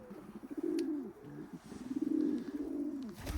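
A banded pigeon coos softly and close by in low, throaty bubbling phrases, two rolling bursts separated by a short pause, with faint background noise.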